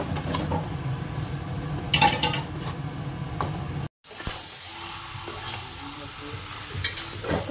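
Meat stir-fried in a pan: loud close sizzling with scraping and clattering stirring strokes, a brief cutoff, then a steadier sizzle with lighter utensil scrapes and no talking.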